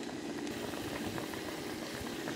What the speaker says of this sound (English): We will let it simmer with a little bit of salt.